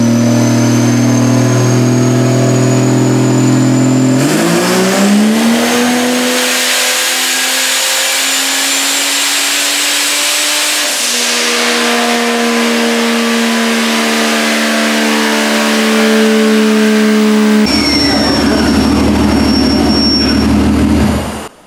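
A turbocharged Vortec 4200 engine on a dyno climbs through a long, loud, sustained rev with rising pitch and turbo whine, holds near the top, then drops off sharply at the end.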